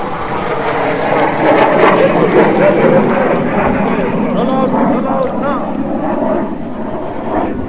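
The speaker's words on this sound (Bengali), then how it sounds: "আপনারা দেখতে পাচ্ছেন ইয়াক 130 বিমানের ইনভার্টেড ফ্লাইট" A Yak-130 jet flying inverted over a Victory Day parade gives a steady, loud roar that holds evenly throughout with little change.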